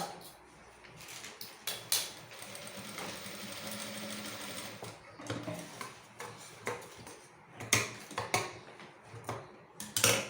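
A sewing machine runs slowly while stitching a curved tulip sleeve, sounding as soft irregular bursts of rapid mechanical ticking and clatter with pauses and restarts, close and faint, without speech.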